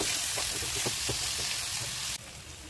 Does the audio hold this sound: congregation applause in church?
no